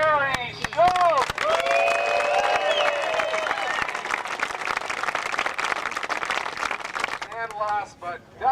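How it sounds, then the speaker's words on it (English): A crowd applauds at a disc golf world championships awards ceremony, sustained clapping and some cheering heard under an announcer's amplified voice, with a trailing burst of claps at the end. "Big round of applause from Sheboygan, Barry Schultz."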